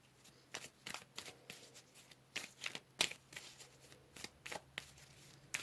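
Tarot cards shuffled and drawn, with quiet, crisp riffles and soft slaps repeating in quick irregular bursts close by.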